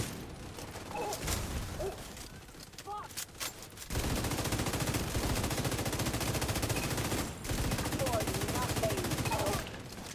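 Sniper fire crackles in a video game as rapid, dense gunshots pour out continuously, with a voice talking over the early part.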